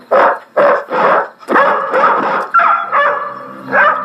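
Dogs bark repeatedly at close range in an action film scene dubbed in Tagalog, a rapid series of loud barks and yips, some overlapping, with a whiny edge toward the end.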